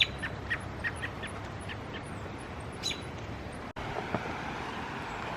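Small birds chirp in short, scattered calls over a faint, steady background hum of distant traffic.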